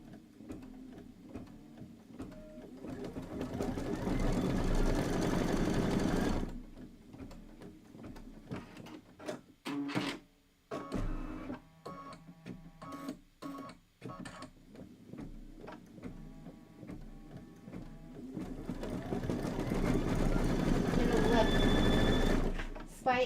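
An embroidery machine stitches a basket placement line on a quilt block, its rapid rhythmic whir running in two long stretches at the start and end, with voices and handling noises in the quieter middle.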